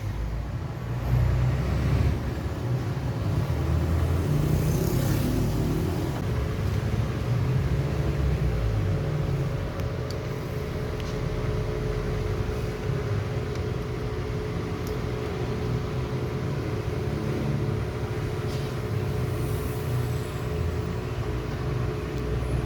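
Toyota 4A-FE car engine idling with a steady, low rumbling drone throughout, close and continuous, with faint mechanical hum and no talk.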